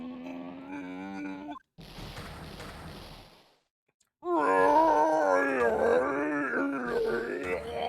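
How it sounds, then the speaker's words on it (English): A video game scream from Phoenix Wright: Ace Attorney, a loud, drawn-out, wavering wail with a groaning tone. It comes in two long bursts separated by a brief hiss and a moment of silence. "That scream. I've heard that scream before."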